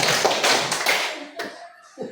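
A group of students claps together in a counted classroom clapping game, a few quick bursts of many hands striking in rhythm, close and loud, followed by sparse single claps and a little voice.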